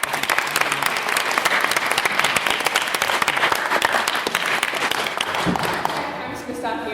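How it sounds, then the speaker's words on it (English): An audience at a debate applauds Professor Harvey, sustained dense clapping that fills the room at full loudness and then tapers off near the end as a voice begins speaking. "I'd just like to ask for one more round of applause for Professor Harvey for coming this night"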